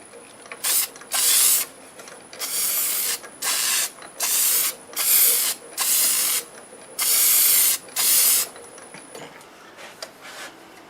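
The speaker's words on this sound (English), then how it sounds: "I'm going to spray it with Deft Lacquer" Short bursts of aerosol Deft lacquer hiss onto a wood turning, about eight separate sprays of roughly half a second to a second each, close and loud, separated by brief pauses with faint clicks between them.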